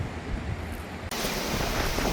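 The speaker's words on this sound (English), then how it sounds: "It is really windy out." Strong wind outdoors beside a deck being built, a dense broadband rush that gusts and swells sharply partway through, loud and close on the microphone, with no one talking.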